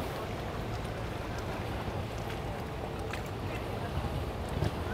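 Broad, rushing roar of a motorboat running at open throttle on the water in Miami during a stormy holiday weekend, steady and moderately distant with wind buffeting the microphone and no clear speech.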